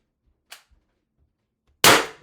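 An Umarex TR68 HDR68 Gen 2 revolver fires ART 8-gram .68-caliber S-type shaped ammo: one sharp, loud pop near the end, preceded by a faint click and quiet mechanical ticks.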